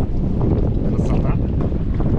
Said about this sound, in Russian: Только ветер свистит в ушах.